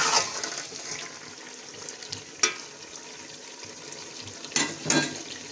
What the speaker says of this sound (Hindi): एक से आध मिनट तक इसको हम थोड़ा सा भून लेंगे ताकि ये मसाला जो है वो बोटियों में अच्छे से जज़ब हो जाए